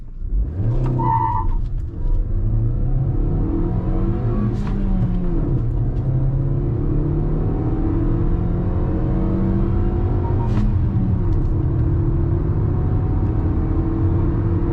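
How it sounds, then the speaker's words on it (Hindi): A Maruti Victoris LXi CNG car accelerates hard from 0 to 100 on petrol, its engine note climbing loud and close through several gear changes with brief dips between shifts. "मैं इस गाड़ी को एक बार 0 to 100 देख लेता हूँ फटाफट"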